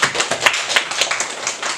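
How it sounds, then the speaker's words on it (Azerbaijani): A group of people at a zero-waste art course claps for children who answered questions, a short burst of brisk, close clapping with uneven rhythm. "Cavab verənlərin hamısından gəlin bir alqışlayaq."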